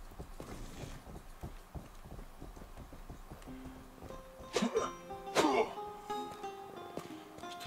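Horse hooves clip-clopping in GTA Medieval, a steady run of light rhythmic hoof knocks, then a few louder bursts and sustained game tones over the hoofbeats.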